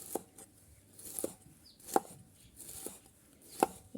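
A knife thinly slices long beans for Thai fish cakes, giving five crisp, evenly spaced chops on a cutting board, close and clear in an otherwise quiet room.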